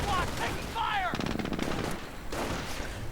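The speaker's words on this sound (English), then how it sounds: "Anti-tank half-track firing away with focused fire" Rapid bursts of automatic fire from an anti-tank half-track in a real-time strategy battle, loud and sustained cracks in quick clusters, with a faint voice in the background.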